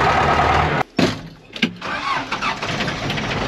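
An old Ford 7.3 IDI diesel engine cranks for a moment, catches and rumbles up into a loud, rough idle nearby, with a brief dropout before it fires.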